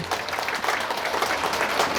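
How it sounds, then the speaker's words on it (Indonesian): Applause for a blue-and-white uniformed group at an Indonesian religious gathering, dense steady clapping from a large crowd filling the whole moment, fairly loud and unbroken. "tepuk tangan untuk seragam biru putih"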